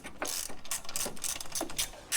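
A ratchet clicks in quick repeated strokes while loosening 12 mm bracket bolts on a car engine, each burst a close, crisp pawl rattle, with no talking.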